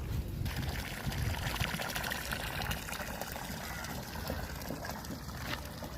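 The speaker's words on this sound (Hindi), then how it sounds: "ये ऊपर चश्मे से आ रहा है पानी" Water from a mountain spring flows and trickles in a steady, continuous rush, loud and near, with no talking over it.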